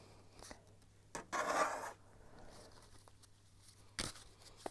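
Tarot cards shuffled by hand in a quiet room, a few short riffling bursts with a longer papery rustle in the middle, close and soft with no talking.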